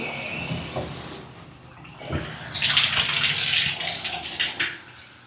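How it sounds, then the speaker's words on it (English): Hotel shower water running, a bit drippy: a soft trickle and scattered drips at first, then the spray opens into a loud, steady hiss of falling water that wavers toward the end. "So got several different settings for the shower. It's a little drippy, but it's decent flow."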